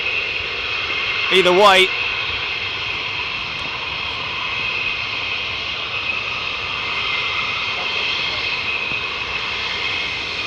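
Fighter jet engines run steadily during hot-pitting refuelling at RAF Lakenheath, a constant high whine and roar, with a brief spoken voice early on over the noise.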